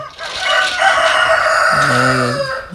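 A rooster with a red comb crows a loud, drawn-out cock-a-doodle-doo close by at a rural home, and a second voice from the flock joins near the end, with no talking.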